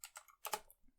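Quick keystrokes on a computer keyboard, a short burst of about four close, faint clicks within a second.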